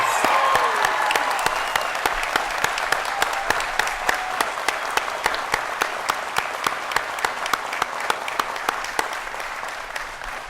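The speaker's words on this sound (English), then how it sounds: "How about one more round of applause for all of our graduates today?" A large crowd claps steadily for college graduates at a commencement ceremony, continuous dense applause with sharper individual claps standing out regularly throughout.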